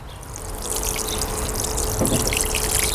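Steady trickling and pouring water onto freshly divided alpine strawberry plants, close by and fairly constant, with a brief splashy surge near the end.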